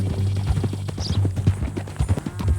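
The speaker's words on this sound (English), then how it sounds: "That new horse?" A horse's hooves clip-clop at a steady walking pace in Red Dead Redemption 2, close and fairly loud, with a low hum running beneath and a brief high squeak partway through.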